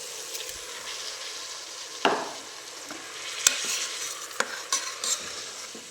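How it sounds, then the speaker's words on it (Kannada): Washed rice fries in a ghee and masala tempering as a spoon stirs it in the pan. A steady soft sizzle runs throughout, broken by occasional sharp scrapes and taps of the utensil, and no one speaks. "ಇದು ಒಗ್ಗರಣೆಯಲ್ಲಿ 1-2 ನಿಮಿಷ ಫ್ರೈ ಆಗಬೇಕು."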